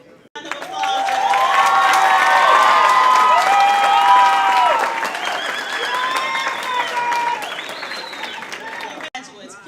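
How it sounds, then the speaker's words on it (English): Graduation audience at an Omnitech 2018 ceremony breaks into sustained applause with cheers and shouts, loud and close, filling the room for several seconds before fading, with voices rising over it. "Round of applause."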